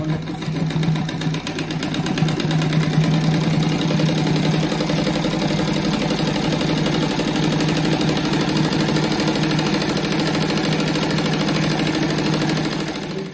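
A sewing machine runs steadily and loud, stitching a second seam on a colorful patchwork rug made of fabric squares, its fast mechanical whir holding constant for the whole stretch without pause.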